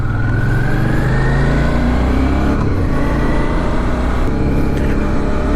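Steady engine drone of a Suzuki V-Strom motorcycle on a ride through Hrvatsko Zagorje, Croatia, with wind rush and a continuous low hum that shifts slightly in pitch, close and loud, no talking.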